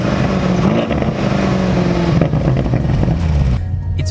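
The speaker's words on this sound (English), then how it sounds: "but this car sounds better" A BMW M850i's V8 engine revs with a steady, loud, throaty drone, close by and continuous, settling into a lower idle near the end.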